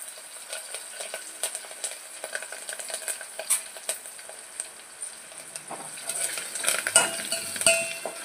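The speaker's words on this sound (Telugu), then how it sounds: "లైట్గా పొడి మాడకుండా మనం ఫ్రై చేసుకోవాలి." Spice powder with curry leaves fries in a pan for rasam while a spoon stirs and scrapes, giving irregular metallic clinks over a soft sizzle that grows toward the end, with no talking.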